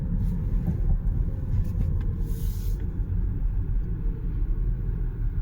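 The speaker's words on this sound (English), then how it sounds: "So now it's just going to coast and drive, even with creep mode off." A Volvo XC60 T8 AWD plug-in hybrid coasting to a stop, heard from inside as a steady low road rumble with no engine note, constant and fairly loud throughout.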